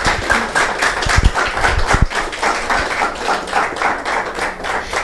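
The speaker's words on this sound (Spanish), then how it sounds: "Muy bien, aplausos." Audience applause at a televised community event, a broad steady wash of clapping lasting the whole stretch with no voices over it.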